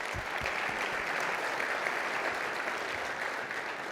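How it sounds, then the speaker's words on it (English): An audience gives a round of applause at a city event, a dense steady wash of clapping hands that holds evenly for the whole stretch. "I think that deserves a round of applause."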